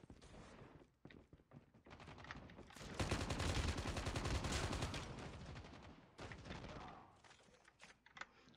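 Rapid bursts of Call of Duty: Mobile gunfire, an M4, rattle in long continuous volleys, with brief pauses between, fairly loud and close, no talking.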